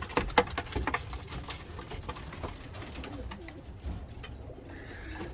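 Pigeons coo in a straw-lined loft during a rainstorm, soft low cooing calls close by over a steady patter of rain, with a few louder fluttering bumps at the start.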